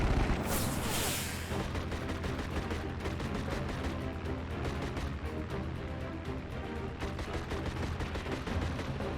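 Video game gunfire from The Brew Barons comes as a dense, continuous barrage of booming shots and blasts. Rapid reports stack over one another at steady loudness throughout.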